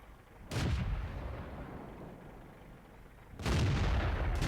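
A tank cannon firing in World of Tanks, a Dicker Max match: two loud booming shots about three seconds apart, each a sharp blast trailing into a rumbling decay over steady background noise, with no speech.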